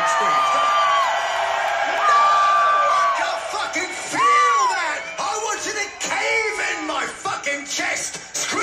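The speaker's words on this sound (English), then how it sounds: "Give us that one of those big fucking screams." A concert crowd at a show in Indio screams and whoops on cue, a loud sustained roar of massed voices with rising and falling cheers swelling across the whole stretch.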